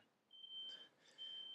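A smoke detector in a room gives a faint, piercing high tone in two short beeps, quiet and distant against low background noise.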